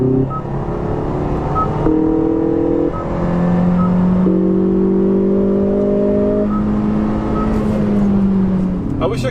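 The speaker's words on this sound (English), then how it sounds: "let's test this enhancement, engine note enhancement. So right now, obviously it's enhanced." A 2019 Hyundai Veloster R-Spec engine with its engine note enhancement switched on hums and revs in steady tonal steps, rising and holding between shifts, close and fairly loud inside the car, with a voice speaking over it.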